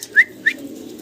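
Two short, clear bird calls from a pair of Magpie pigeons at a farm, each a brief bright note with a pause between, over faint low background hum.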